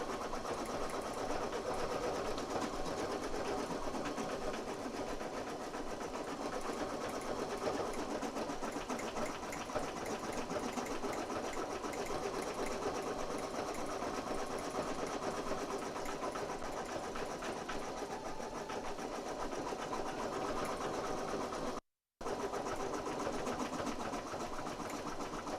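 A home embroidery machine stitches a straw beach design with a continuous, even mechanical hum and rapid needle chatter that runs unbroken except for one brief drop near the end.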